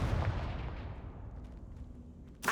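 A Confringo blasting spell detonates in Hogwarts Legacy with a loud, booming explosion that rumbles and decays over about two seconds, followed by a sharp crack at the end.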